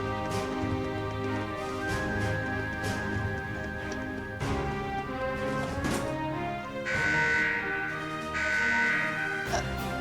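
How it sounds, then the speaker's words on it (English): Alarm in the Trails of Cold Steel video game blares over the game's music, a sustained electronic tone sounding in long pulses that stand out loudly in the second half. "Did the alarm just go off?"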